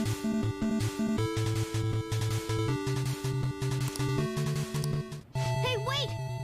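Persona 5 Royal game music resembling the Mike Tyson's Punch-Out travel theme plays as a bouncy, steady electronic melody over pulsing bass notes, loud and continuous, with a brief dropout near the end.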